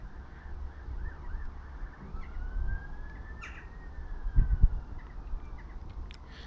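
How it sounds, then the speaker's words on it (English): A siren wails faintly in the distance, its tone rising and falling slowly over a low rumbling background, with a brief thump midway. "So they're playing the sirens."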